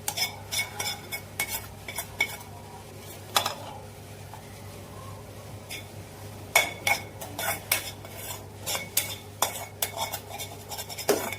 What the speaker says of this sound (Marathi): कढई पुसून घेतली सगळी बटाटा थोडासा टाकून